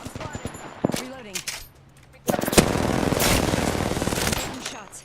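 R99 submachine gun fire in a video game, a long rapid automatic burst after a few scattered shots, loud and close, with players talking between volleys.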